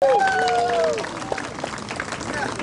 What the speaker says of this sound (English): Everyone give them a big round of applause for being the